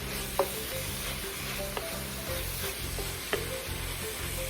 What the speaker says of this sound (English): I press about 3 cloves of garlic. Stir that around.